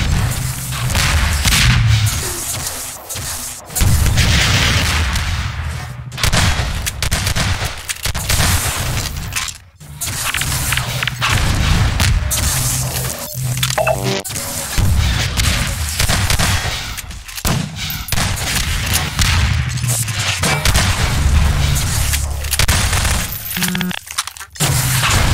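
Rocket explosions and gunfire in a Half-Life 2 Deathmatch competitive match, a dense, loud run of booming blasts and shots that continues almost without a break, with no talking.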